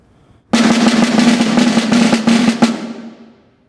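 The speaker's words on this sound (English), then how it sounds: "If you're an advanced player, I recommend a 32nd note roll bass." Snare drum roll with a thirty-second-note roll base, a fuller, smoother buzzing rattle with tightly packed strokes, loud and close, stopping on a final accent and then ringing briefly before fading.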